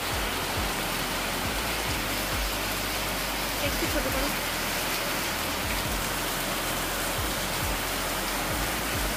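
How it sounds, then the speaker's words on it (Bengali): Heavy rain pours at Hampi near the banks of the Tungabhadra, a dense, loud, continuous roar of drops on surfaces, with a brief spoken remark over it. "কত জোরে বৃষ্টি হচ্ছে।"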